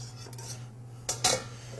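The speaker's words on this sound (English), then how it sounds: "So we're going to take this, whisk it right in." A whisk scraping and clinking against a pot while egg yolk custard is stirred into cream, a few soft strokes followed by two sharper metallic clanks near the end, with no talk.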